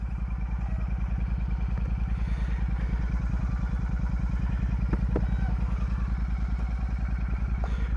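A Royal Enfield Super Meteor 650 motorcycle engine idles close by with a loud, steady, rapid thumping pulse, its exhaust burbling evenly with a few brief clicks over the top.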